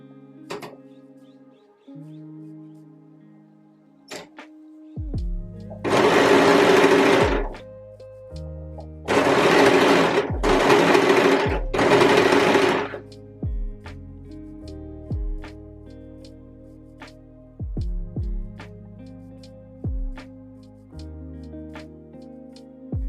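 A sewing machine stitches flat braided elastic around the armholes of a reversible dress. It runs in several short, loud, buzzing bursts, with pauses between them, over soft background music.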